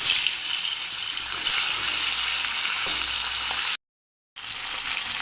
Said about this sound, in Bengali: তেল গরম হয়ে গেছে, একে একে মাছের মাথাগুলো দিয়ে দেব।